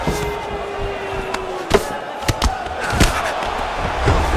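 A crowd roars in EA Sports UFC 5 as fighters return to their feet after a long grappling exchange. It makes a steady broad murmur, with a few sharp thuds and impacts punctuating it.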